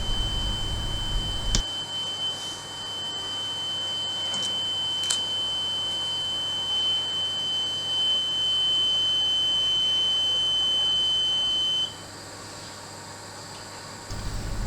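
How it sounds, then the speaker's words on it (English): An oil mist detector sounds a continuous high-pitched electronic alarm tone during a smoke spray test on a repaired detector head, holding steady for about ten seconds before cutting off, with no talking. "Apart from hearing the alarm, we can also see the relevant indicator lights on both the head and the unit"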